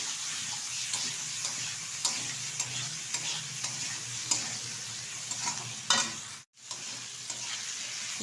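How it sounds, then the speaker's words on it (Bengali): Rohu fish curry seasoned with salt sizzles quietly in a pan while being sautéed, with soft stirring scrapes and occasional louder spatula knocks over a steady low frying hiss. "আবারও বেশ কিছুক্ষণ সময় নিয়ে কষিয়ে নেব।"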